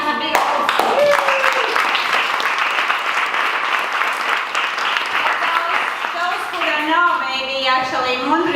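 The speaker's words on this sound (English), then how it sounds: "So please, big applause" Audience applause at a Demola Latvia 2014 mid-pitch event, a dense and loud burst of clapping that fades after about six seconds as a speaker begins talking.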